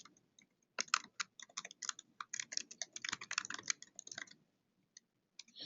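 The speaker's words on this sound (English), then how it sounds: "let's actually type in some external links here" Bursts of rapid typing on a computer keyboard, close and clear, with short pauses between runs of keystrokes while web links are entered.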